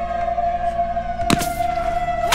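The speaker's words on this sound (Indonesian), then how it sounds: "terdengar suara sirine dari speaker serta dilanjut dengan tembakan sniper dan..." A siren wails steadily from a loudspeaker in a film scene, holding a sustained tone with a sharp loud burst partway through, no talking.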